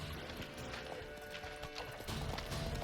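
Horse hooves clip-clop in steady rhythm as a horse is ridden in the video game The Witcher III: Wild Hunt, faint and even beneath a soft game ambience.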